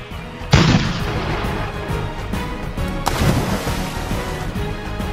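Toy cannon booms during Playmobil pirate ship play, two loud sharp blasts about three seconds apart, each trailing a rumbling decay, with background noise in between and no talk.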